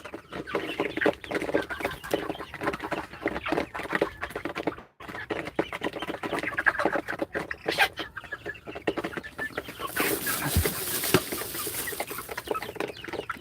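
Broiler chickens on a farm cluck and chatter in a busy, overlapping flock, close and fairly loud, with scattered sharp scratching and pecking sounds and a brief lull near the middle.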